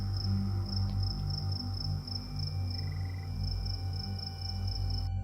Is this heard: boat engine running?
no